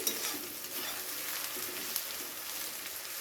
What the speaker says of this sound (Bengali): এবারে সমস্তটা পেঁয়াজের সাথে আবার মিশিয়ে নিচ্ছি।